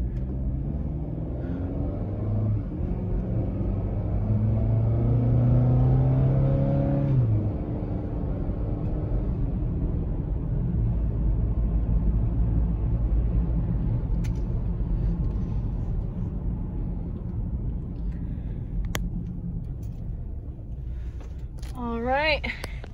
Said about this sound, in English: I'm gonna go ahead and put it in drive